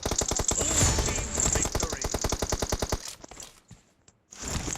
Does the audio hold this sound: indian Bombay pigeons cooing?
no